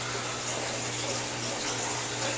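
Running water from a drip system flows steadily into an aquarium housing a large cichlid, a constant low hiss and trickle with a steady hum beneath, no voices present.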